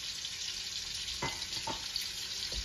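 Water splashes into a sizzling head curry with coriander powder in a pan, a steady close hiss broken by a few short pouring and stirring bursts.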